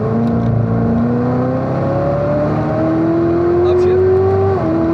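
Corvette C7 ZR1 on a race track accelerating hard after a corner, its engine note climbing steadily through the revs as a loud, sustained roar close by, with a shift near the end.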